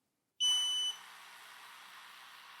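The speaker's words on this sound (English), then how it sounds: "The machine beeped" A Creality Falcon 2 laser engraver gives a single loud electronic beep for about half a second, then fades into a steady whirring hum of machinery with its air pump running.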